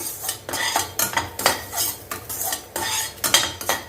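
Grated coconut stirred and roasted in a pan: a ladle scrapes and taps the metal in a steady rhythm of about eight strokes, close and loud, with a faint sizzle beneath.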